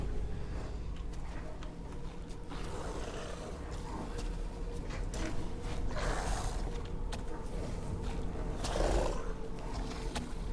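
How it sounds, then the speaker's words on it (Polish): Low, rumbling wolf growls and snarls in Resident Evil Village rise and fade over a steady ambient bed, with a few harsher bursts standing out. "Tych wilków jest teraz znacznie więcej"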